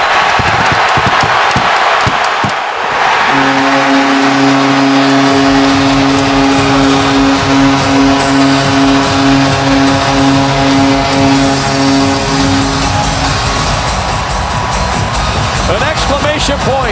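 In a hockey arena during the closing seconds of Game 6 of the 2012 Stanley Cup playoffs, Penguins at Flyers, a loud crowd roars steadily while a sustained horn-like tone sounds over it.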